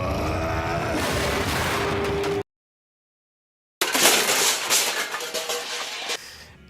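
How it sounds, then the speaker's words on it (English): Harsh metallic sword clashes from the 2016 Berserk anime, clanging like pans banged together, in dense loud bursts before a brief silent gap, then another loud clattering burst that gradually fades. "the audio, especially for the sword, sounds literally like a bunch of pans banging together"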